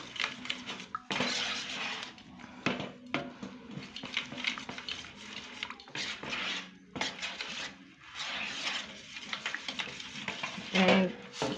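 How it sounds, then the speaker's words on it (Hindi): A corn flour halwa mixture being stirred in a pan, close scraping and rubbing strokes of a spoon in uneven bursts, with soft sizzling and occasional metal clinks between them. "जो भी आपका है हलवे का मिक्सचर है उसको पूरा मिक्स करना है"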